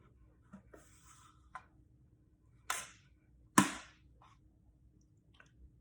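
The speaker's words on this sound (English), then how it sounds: "So the next thing we got to do is cut our pumpkin in half." A knife splits a whole pumpkin in half for puree, giving two sharp cracking crunches close together, the second louder, after a few faint taps in an otherwise quiet room.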